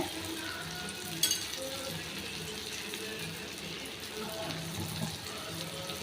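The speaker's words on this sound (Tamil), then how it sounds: "கொஞ்சோண்டு வெள்ளம் போட்டுக்கிறேன் இதோட" A little water goes into frying banana flower thokku, a quick splash followed by a continuous watery hiss and sizzle, close and moderately loud.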